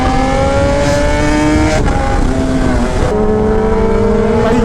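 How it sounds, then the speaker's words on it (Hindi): A Benelli superbike riding on a highway, a loud sustained engine drone with rising pitch and gear shifts, heard close from the bike amid wind rush. "दाऊद भाई हमारी बेनेली पर आए"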